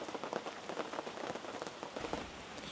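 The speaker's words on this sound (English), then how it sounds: "for some reason it hasn't stopped raining" Rain falls steadily in the Smoky Mountains during a heavy storm, drumming close on a surface with dense, uneven pattering and no voices.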